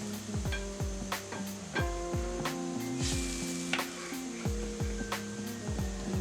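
Stuffed pointed gourds (potol) for a Bengali dolma sizzle in hot oil in a pan. A steady, moderate crackle runs throughout, broken by repeated sharp spatters and pops as the pieces settle and shift.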